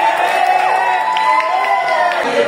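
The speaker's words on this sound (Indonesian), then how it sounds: "boleh kasih tepuk tangan kali Kak" A school class of students cheers and shouts in celebration, a loud, continuous mix of young voices with some clapping scattered through it, filling a room for a couple of seconds.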